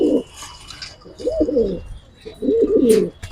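Pigeons of a military hammer breed coo close up in two distinct rolling bursts separated by a short pause, with soft background noise between them.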